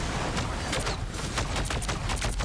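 Dense, continuous gunfire in the hero shooter Marvel Rivals, loud rapid shots running unbroken through a short burst of chaotic combat noise.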